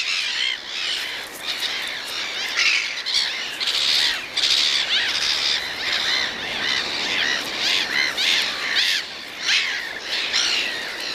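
Gulls in a crowded breeding colony squawk in harsh, overlapping calls, loud and close, coming in rapid bursts with no letup.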